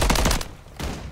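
Gunfire in a Modern Warfare 3 video game gunfight: a rapid, loud burst of shots, a short pause, then another burst.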